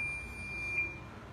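A high-frequency electrocautery unit gives a single clear electronic beep as it powers up, a steady tone over a low background hum.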